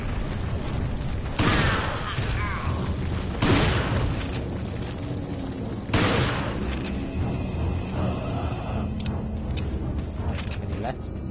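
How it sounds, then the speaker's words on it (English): Shotgun blasts in Resident Evil 4 on professional difficulty, three heavy booming shots spaced a couple of seconds apart, loud and close amid steady game noise, with a person talking throughout. "tactical switch, shotgun, bam"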